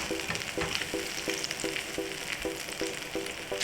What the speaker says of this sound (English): I'll place this pan over medium heat, bring it to temperature. I'll add in the butter. I'll melt the butter